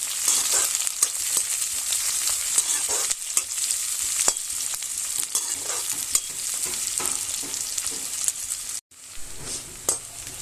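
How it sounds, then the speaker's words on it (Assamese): Large chopped onions fry steadily in hot mustard oil with cumin while a spoon stirs them around the pan, giving a continuous dense sizzle with scraping strokes and a short pause near the end. "পিয়াজটো মই ৰংচোৱাকৈ ভাজি ল'ম।"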